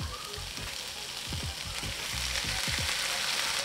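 Chopped kimchi sizzles and fries in a pan with translucent onion, a steady close crackle with soft stirring scrapes and clicks throughout; no talking.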